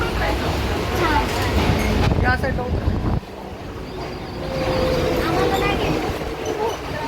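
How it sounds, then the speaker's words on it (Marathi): A train arrives at Vashi railway station, with a steady rumbling, rattling roar of the carriages and brief squeals. People can be heard talking over the train noise. "चल पिकू आलं वाशी स्टेशन"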